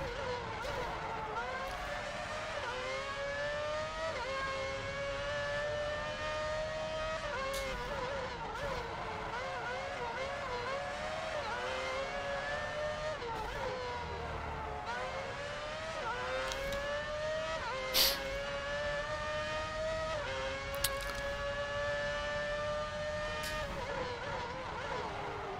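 F1 race cars in the PS3 game F1 Championship Edition, a steady high engine whine that climbs and drops with gear changes, with several cars close together throughout.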